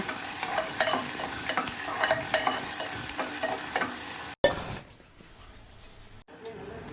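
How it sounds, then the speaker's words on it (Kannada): Chopped onion and curry leaves stirred and frying in a pan for a cluster bean stir-fry, a steady close sizzle with repeated scraping strokes, then briefer fainter frying after a cut, with some talk over it. "ಇವಾಗ ಒಂದು ಸ್ವಲ್ಪ ಈರುಳ್ಳಿ ಹಾಕೊಳ್ಳೋಣ ಸಣ್ಣದಾಗಿ ಕಟ್ ಮಾಡಿ ಸ್ವಲ್ಪ ಕರ್ಬೇವಿನ ಸೊಪ್ಪು ಮಿಕ್ಸ್ ಮಾಡೋಣ"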